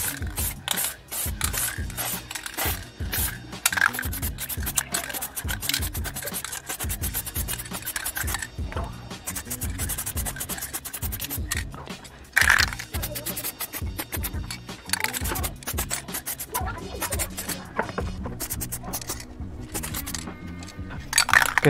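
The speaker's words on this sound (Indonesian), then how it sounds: "Sebelum kita cat si permukaannya, kita kocok dahulu selama 30 detik." An aerosol can of orange Repsol PP plastic primer is shaken steadily for about twenty seconds, giving a continuous close rasping, rubbing rattle with brief louder bursts and no talking.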